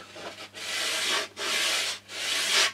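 Folded sandpaper rubs back and forth, making three long, close, rasping strokes separated by short pauses, with no voices.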